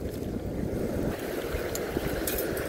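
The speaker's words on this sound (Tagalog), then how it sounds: "malakas hangin." Steady, blustery wind by a river rushes against the microphone with low rumbling buffets, water lapping faintly underneath, continuous throughout with no voices.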